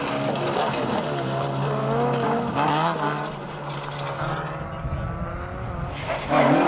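Ford Escort Maxi rally car racing on a historic rally stage, its engine loud and close, revving and shifting through gears with a brief tire scrabble near the end.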